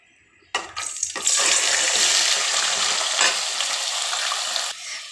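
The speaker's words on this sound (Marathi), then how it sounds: "त्यामध्ये आपल्याला सर्वात अगोदर ही फुलगोबी टाकून आपल्याला थोडीशी शॅलो फ्राय करून घ्यायची आहे।" Cauliflower florets hit hot oil in a wok with a sudden loud burst of sizzling that settles into a steady, intense hiss of shallow frying, close and continuous.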